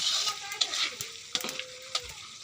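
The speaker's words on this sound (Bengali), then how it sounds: "বলক এসে গিয়েছে" Prawn head curry in a pot comes to a boil, with soft sizzling and bubbling plus a few light clinks of a utensil against the pot, quiet and close.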